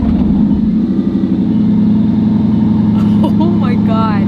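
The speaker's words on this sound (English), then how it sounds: "Let's hear this cold start on the Bugatti Chiron Super Sport." A Bugatti Chiron Super Sport engine cold-starting, giving a loud, steady low rumble with a dense exhaust drone throughout, while a voice speaks briefly over it near the end.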